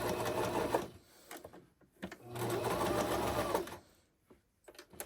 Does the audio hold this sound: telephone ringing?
no